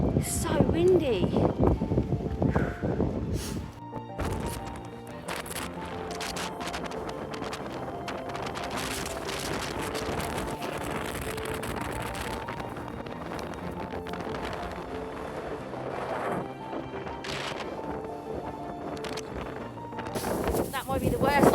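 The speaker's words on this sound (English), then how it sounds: "That might be the worst sort of wind I've ever hit." Gale-force wind from Storm Claudia roaring across an exposed spot in the Lake District, a steady heavy buffeting on the microphone lasting throughout with occasional stronger gusts.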